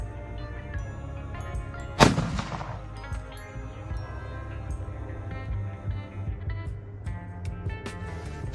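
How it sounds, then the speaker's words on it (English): A single sharp rifle shot from a Ruger M77 chambered in 7mm Magnum booms once with a long rolling echo, followed by quieter outdoor ambience and faint clicks. "I'll fire another one and see what kind of pattern I've got."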